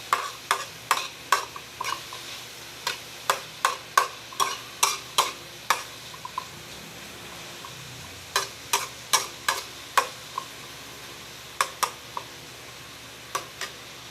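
Sardines and beaten egg being sautéed for a sardine omelette, with a spatula or spoon knocking and scraping against the pan in quick irregular bursts over a faint steady sizzle, and no talking.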